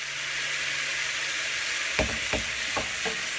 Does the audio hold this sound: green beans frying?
yes